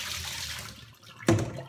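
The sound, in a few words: pouring soaked tomatoes or strawberries and water through a strainer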